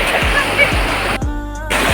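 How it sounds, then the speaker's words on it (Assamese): Water of the Nilakh river waterfall in Dhemaji pours in a continuous, close rushing roar with splashy texture, and the tone shifts briefly partway through. "পানী ইমান ধুনীয়া চাওক, শব্দ শুনক, পানীৰ শব্দ ইমান মৰম লাগিছে"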